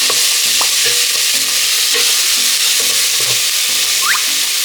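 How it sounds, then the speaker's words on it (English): Onions, ginger and garlic fry in hot sesame oil with a loud, steady, close sizzle, broken by repeated scraping stirs, while light music plays underneath. "Once you can tell that your oil is nice and hot, go ahead and add the onions,"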